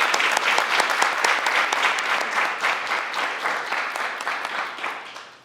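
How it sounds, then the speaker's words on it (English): An audience claps for arts educators at a public hearing on arts and cultural education, a crisp burst of dense applause that gradually thins and fades toward the end. "Let's give them a round of applause."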